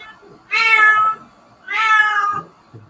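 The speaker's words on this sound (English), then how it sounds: "Holy crap, cat." A cat gives two clear, drawn-out meows a moment apart, close and loud in an otherwise quiet room.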